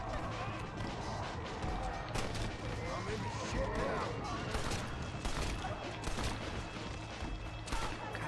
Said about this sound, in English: I shot someone in the background